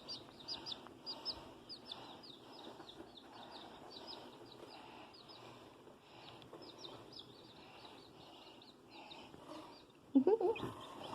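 Soft Black Australorp chicken clucks and chirping murmur throughout, fairly quiet and close, with a louder squawky burst near the end.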